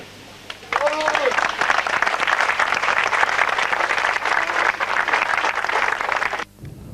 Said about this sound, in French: que je vous demande, vous qui êtes venus, d'applaudir